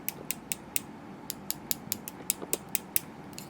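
A series of sharp, bright taps of 4.5mm wooden circular knitting needles knocked together, roughly a dozen in an uneven rhythm, close and clear over quiet background.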